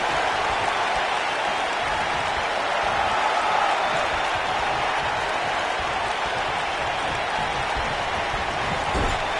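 A dense, continuous roar of a large crowd cheering and applauding in the wrestling video game WWE 2K19, steady and unbroken throughout.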